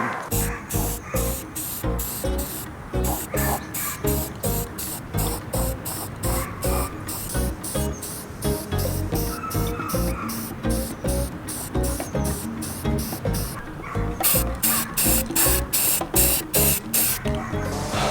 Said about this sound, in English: And I'm over here spray painting.